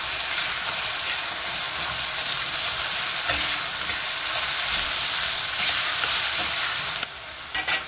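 Ginger-garlic paste fries with onion and tomato in a pan, giving a loud, dense, continuous sizzle with faint stirring scrapes, close up, before the hiss drops away abruptly near the end.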